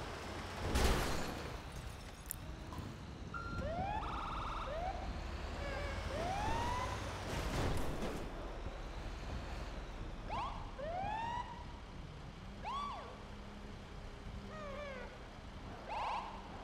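Emergency vehicle sirens wail with rising and falling sweeps across the whole stretch, fairly loud and continuous over a low background rumble.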